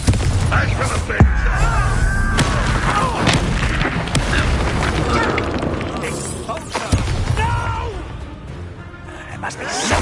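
Spell blasts and booming impacts from Confringo, an explosion spell in the video game Hogwarts Legacy, thud repeatedly and loudly through dense game audio, with a voice speaking among the bursts.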